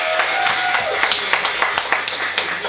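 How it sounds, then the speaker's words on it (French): A small audience claps, with a brief patter of scattered hand claps and taps that stays fairly soft and loose in rhythm for a couple of seconds. "Tout le monde applaudit."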